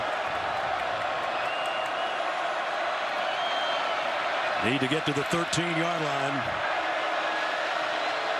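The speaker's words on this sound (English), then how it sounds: "Crowd trying to help out their defense." Stadium crowd roaring steadily at a college football game between Alabama and Ole Miss, a broad sustained wash of cheering with a louder surge midway, under a play-by-play announcer's voice.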